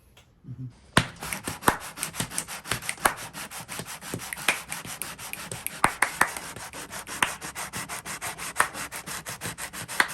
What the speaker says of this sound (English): We're gonna basically sand that surface.